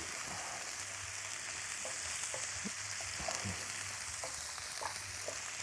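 Garlic sautéing in a pan gives a steady, moderate sizzle with occasional soft stirring scrapes, no voices over it.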